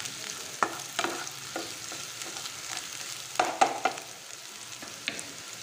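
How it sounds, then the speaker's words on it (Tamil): Chopped vegetables sautéing in a pan for vegetable rice, with a soft, steady sizzle broken by a handful of sharper scrapes and clicks as they are stirred, fairly quiet and with no talking. "நல்லாவே வதக்கிக்கோங்க."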